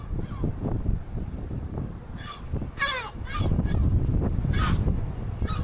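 Seagulls call repeatedly nearby on a rooftop by their eggs, harsh wavering cries rising over a steady rumble of wind.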